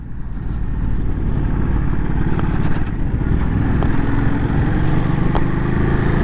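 A Ducati Monster 937 motorcycle engine runs steadily at low revs, a constant, close, throbbing drone with no change in pitch throughout.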